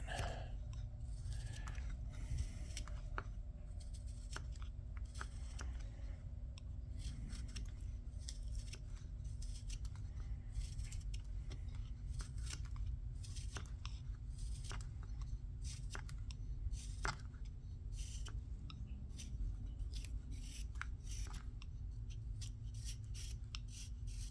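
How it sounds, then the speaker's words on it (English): A carving knife shaves a wooden rolling pin by hand, making a long run of short, dry scraping and snicking cuts in an uneven rhythm. The sound is quiet and close, with no talking. "you can pretty much do this whole portion of the carving with one knife"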